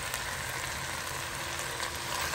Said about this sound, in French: We all sauté everything together.